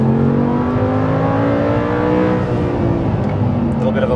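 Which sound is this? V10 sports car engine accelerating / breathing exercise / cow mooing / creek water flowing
V10 sports car engine accelerating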